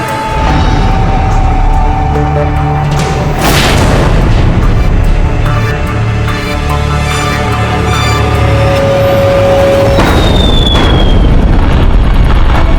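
Loud booms and blasts from an attack by Mughal forces roll on continuously amid a dense rumbling background, with sharp high-pitched whistles cutting through, as in a dramatized battle scene.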